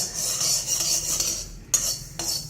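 Spoon stirring mustard seeds roasting in a hot kadai with the gas switched off, a soft scraping hiss with two sharp metallic clinks near the end.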